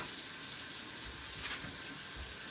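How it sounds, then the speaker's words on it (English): Steady rush of running water from a kitchen tap, constant and moderately loud in the background of a home kitchen, no voices. "Sorry for the water in the background."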